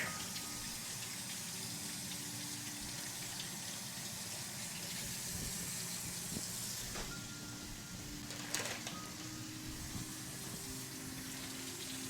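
Oranges rinsed under a running tap give a steady, soft stream of water close by, with faint bird calls in the background and a brief clatter near the end.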